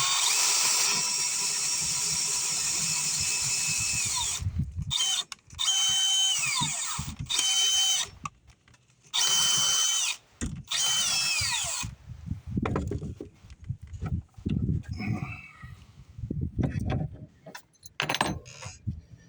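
A power drill bores a large hole into a house cabinet, whining loudly in several long bursts broken by brief stops, followed by quieter clattering and handling noises.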